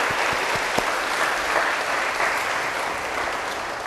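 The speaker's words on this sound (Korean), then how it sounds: "하나님께 영광의 박수 돌리고요." A church congregation at a Sunday young adults' service at Chungdong First Church gives sustained, loud, even applause, a dense wash of clapping from a full room.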